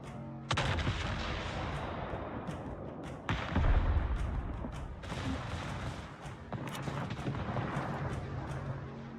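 Naval artillery fire in the World of Warships game as the battleship Bayern shoots at an enemy ship: loud, booming salvos at irregular intervals over a constant rumble of battle, with no talking.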